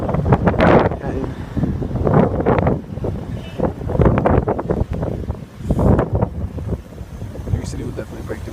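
Blizzard wind gusting along Riverside Drive in Manhattan, loud buffeting bursts that rise and fall against the microphone, with voices partly buried underneath.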